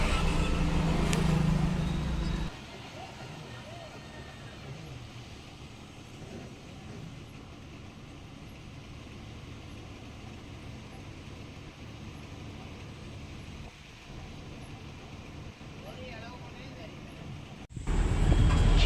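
A vehicle drives at night along the NH38 highway in India, following another vehicle ahead, with a steady, low road drone inside the cabin and louder bursts at the start and end.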